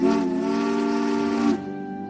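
Caitlin, the sleek streamlined purple engine from Thomas & Friends, blows her steam whistle: a loud, rich chord-like blast sustained for about a second and a half, then cut off, leaving a fading hiss, with no voices.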